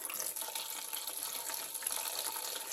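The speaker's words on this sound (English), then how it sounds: "I'm going to pour this slowly over my solid oils." Melted liquid poured slowly into a bucket of solid soap-making oils, a steady, soft trickling stream heard close and alone without speech.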